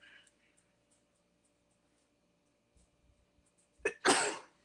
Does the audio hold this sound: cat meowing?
no